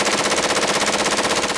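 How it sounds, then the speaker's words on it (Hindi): Rapid automatic gunfire, a long unbroken burst of evenly spaced shots in fast rhythm, loud and close with no talking. "लेकिन ताबड़तोड़ गोलियों की आवाज जरूर सुनाई दी।"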